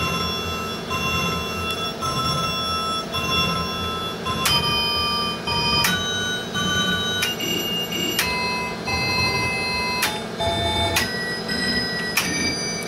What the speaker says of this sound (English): a 6-bit DAC creating a very musical bell